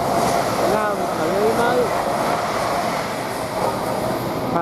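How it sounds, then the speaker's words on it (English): A Lumo train heading toward Edinburgh rumbles loudly and continuously through Doncaster railway station, with steady wheel and engine roar and faint squeals, and a voice talking over it. "Lumo passing through there towards Edinburgh."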